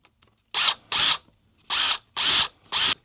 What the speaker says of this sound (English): So I'm using a drill instead of trying to cut this